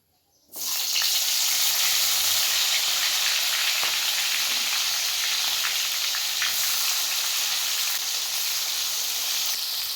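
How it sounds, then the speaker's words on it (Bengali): Raw jackfruit pieces dropped into hot oil burst into a loud, bright sizzle after a brief silence, then fry continuously with a steady hissing crackle close by, no talk. "তেলটা গরম হয়ে গেছে, আমি এবারে এঁচড়গুলো তেলের মধ্যে দিয়ে দিচ্ছি।"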